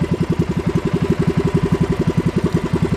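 Gasoline engine of a fishing boat running steadily at sea, a close, loud, even throbbing pulse that repeats rapidly and without a break, heard alone with no talk.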